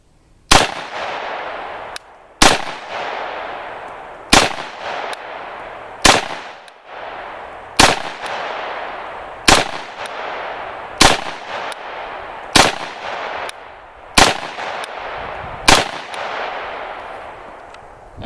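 A Galil Ace rifle in 7.62x39 fires about ten sharp, loud shots outdoors at a slow, steady pace, each crack spaced roughly two seconds apart with a decaying echo between, no talking.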